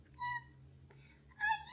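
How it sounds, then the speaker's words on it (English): A kitten gives two short, high meows about a second apart, close and clear, with a quieter faint mew between them over a low steady hum. "He came to a kitten."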